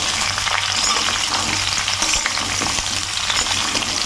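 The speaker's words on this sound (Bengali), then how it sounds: "এবার আমগুলো ভালো করে ভেজে নেবো। আম তো আস্তে আস্তে করে নাড়ছি" Mango pieces for a sweet mango pickle frying in oil and stirred slowly in a pan, a steady close sizzle with soft scraping strokes throughout, no voices.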